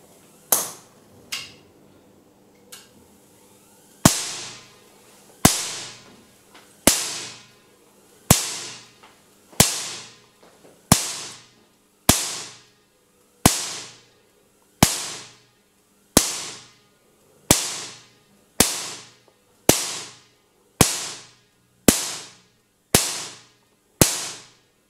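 A high-voltage Marx generator, upgraded to over 350 kV, fires repeated spark discharges. Sharp, loud cracks ring out alone at a steady pace of roughly one every second and a half, with a few irregular snaps at the start.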